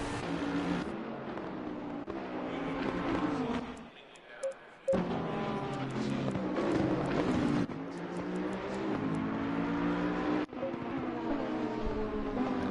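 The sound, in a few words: GT3 race cars racing at Zolder in racing video game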